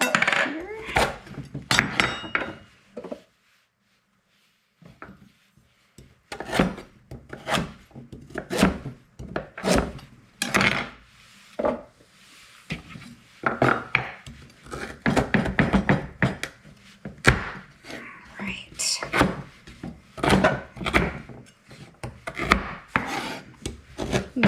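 A knife chops fresh horseradish root on a board in quick, uneven strikes that come close and crisp, stopping briefly for a few seconds before the chopping starts again.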